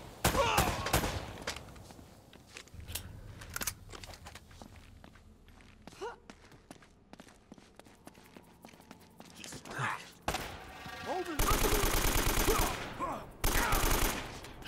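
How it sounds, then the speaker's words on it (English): Gunshots and footsteps in Uncharted: Drake's Fortune, scattered sharp shots and heavy steps, then loud bursts of automatic fire near the end, fairly close. "Shot him in the dick."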